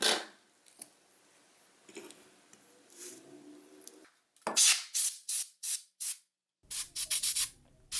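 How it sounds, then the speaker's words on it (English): Short bursts of air are blown into the camera lens housing of an iPhone X during a repair to clear out glass fragments, about eight sharp, close hisses after a stretch of faint rustling. "I keep blowing air in there as I don't want any glass fragments to stick around inside."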